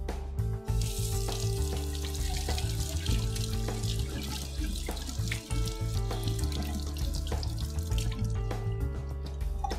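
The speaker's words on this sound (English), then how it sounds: "gently pull out the teeth from the center and wash using plain soap and water" HairMax laser brush teeth are washed by hand with plain soap and water under a running tap, a steady close splashing stream with small clunks and drips.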